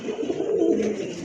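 Pigeons cooing steadily at a bird market, a low continuous murmur of soft throaty calls from several birds close by, without any talk.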